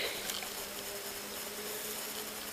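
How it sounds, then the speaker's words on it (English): A snowmobile engine drones faintly from far off along a trail in snowy backwoods, a thin steady buzz under a hissy outdoor wind bed, with no talking. "And you may hear a snowmobile in the background."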